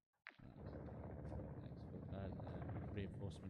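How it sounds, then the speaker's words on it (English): A reinforcement helicopter in the video game Call of Duty DMZ arrives with a sudden onset, then a continuous loud rotor roar holds steady throughout while faint game chatter sits underneath. "Reinforcement chopper."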